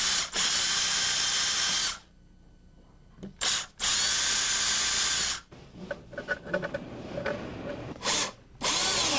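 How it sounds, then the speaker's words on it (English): A power drill bores into a wooden drawer face in several loud, sustained whirring bursts separated by short pauses, with lighter clicks and handling noise between runs. "Then drill the drawer face, but not all the way through."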